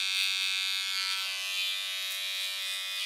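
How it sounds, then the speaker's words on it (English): An electric razor buzzes steadily as it shaves a man's belly, a close, bright continuous whine with slight wavering, heard alone for a few seconds. "We give him a belly shave."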